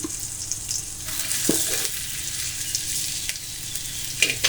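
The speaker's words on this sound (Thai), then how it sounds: "เราก็จะใส่พริก ที่โขกผสมกันไว้กับกระเทียมนะครับ มีพริกแห้ง พริกสดแล้วก็กระเทียม เราจะผัดพาะได้กลิ่นหอมนะครับ" Pounded dried and fresh chili with garlic being stir-fried in hot oil, a loud continuous crackling sizzle with scraping spatula strokes throughout, no voices.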